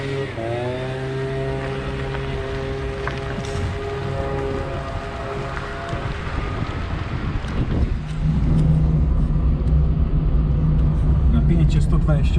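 An electric Fiat 126p Maluch drives forward in third gear, its motor whining in rising and falling tones that give way to a louder, rougher rolling rumble, all continuous.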